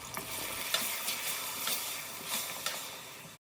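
Catla fish head frying in oil with blended garlic and onion gives a steady close crackling sizzle, with a few sharper stirring scrapes spread across it and no voices.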